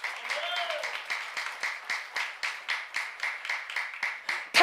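A church congregation claps in a steady rhythmic beat of roughly two or three claps per second, fairly faint, with a sung or spoken voice briefly rising at the start.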